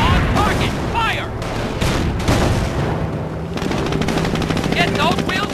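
Cannon blasts and rapid gunfire from the World War II strategy game Company of Heroes, a dense continuous barrage of loud shots and booms with shouted voices in between.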